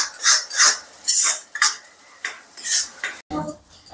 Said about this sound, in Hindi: इसको अच्छे से ऐसे भूनते रहना है जब तक ये लाल ना हो